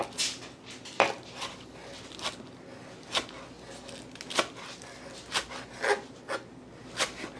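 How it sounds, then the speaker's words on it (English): A knife makes a diagonal chop through food on a cutting board, giving about a dozen crisp, irregular knocks at close range with light scraping between them and no voices. "I'm just gonna give them a little diagonal chop"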